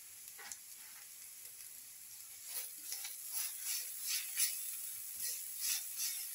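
Onions sizzle in a frying pan after salt is added, with a soft steady hiss broken by scraping stirring strokes that grow more frequent and louder toward the end.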